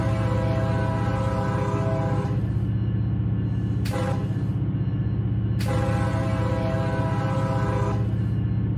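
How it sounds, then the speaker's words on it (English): Train horn in the Run 8 train simulator game, a long loud horn blast followed by two short separate toots over a steady rumbling locomotive, no talking. "Finger slipped off the whistle."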